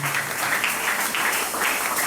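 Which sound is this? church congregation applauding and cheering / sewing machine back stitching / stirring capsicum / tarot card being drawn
church congregation applauding and cheering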